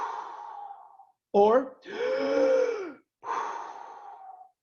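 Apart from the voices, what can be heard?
deep breathing, Wim Hof breathwork inhale and let go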